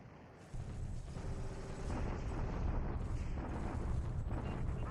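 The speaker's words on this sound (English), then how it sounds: "And now he's counter bombarding us" Artillery counter-bombardment in the War in the Pacific strategy game: a steady, dense roar of rumbling booms that grows louder after the first second and holds without clear individual blasts.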